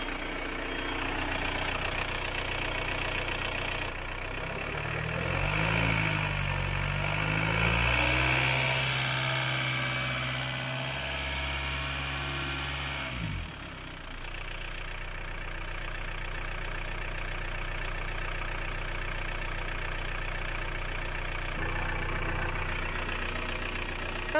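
A Volkswagen van engine idles steadily as it warms up after a stainless-steel cooling pipe replacement, with a brief louder rise midway before settling back to a constant low rumble.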